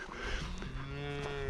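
Cattle on a farm, moo after moo in a steady run, close and loud, with no talking.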